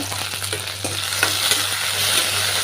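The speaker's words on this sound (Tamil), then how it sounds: "அந்த வெண்டைக்காவோட விழுவிழுப்பு தன்மை போகிற வரைக்கும் நல்லா எண்ணெயில் வதக்கிட்டு" Okra with four garlic cloves sautéing in oil in a kadai, a constant frying sizzle with spoon scrapes and light clicks as it is stirred, no voices.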